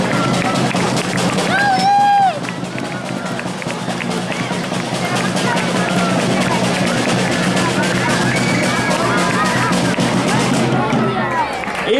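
Outdoor crowd at a giants' gathering in Puig-reig applauding and cheering after a performance, a dense steady wash of clapping and hubbub lasting throughout, with a brief whistle-like tone early on.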